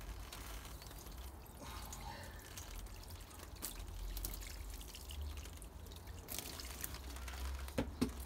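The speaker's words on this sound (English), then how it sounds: "we're going to hit it with a kettle of hot water that's just boiled" Faint trickling and splashing of just-boiled water poured from a kettle onto a frozen window pane, with occasional drips and a soft gurgle, quiet and close.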